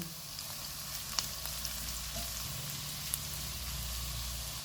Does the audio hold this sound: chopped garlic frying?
yes